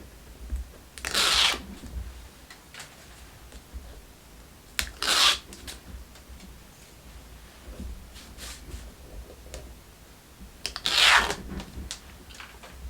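Backing paper torn away from a box-frame craft piece with a sharp-pointed poker tool: three separate rasping, ripping pulls spaced several seconds apart, with faint rustling in between.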